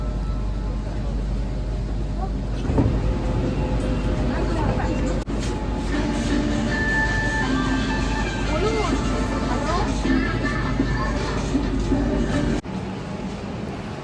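Kolkata metro train travelling from Howrah to Sealdah through the tunnel under the Ganges, a steady loud rumble with running-rail noise and brief squeals, continuous throughout with occasional talk in the carriage.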